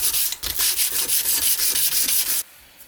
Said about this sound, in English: you can take your sandpaper, just fold it a few times, and you can push it between the ribs